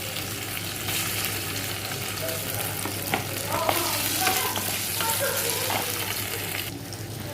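Pointed gourd and potato pieces fry in oil with a constant crackling sizzle and a few soft stirring scrapes, moderately loud and alone.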